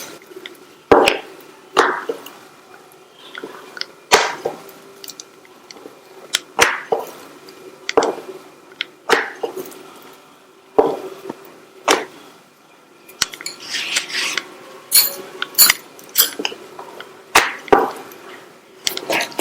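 Green gram chapati dough being rolled out with a rolling pin, giving a series of sharp wooden knocks and taps at an uneven rhythm, close and fairly loud, with no talk.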